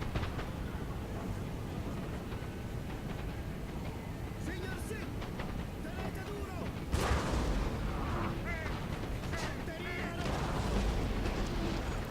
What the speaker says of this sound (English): we'll open fire again with the cannons